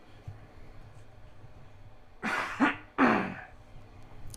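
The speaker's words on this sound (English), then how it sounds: "that heaping dry cough that I usually do whenever I move my microphone out of the way" A couple of dry coughs close to the microphone, short and harsh, in an otherwise quiet space.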